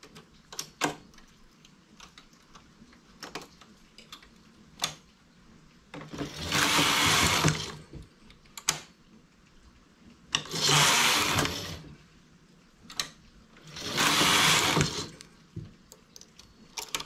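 A knitting machine runs in three loud rasping bursts as the carriage sweeps across while knitting a bikini bottom, each pass lasting about a second and a half, separated by quieter clicks and handling sounds.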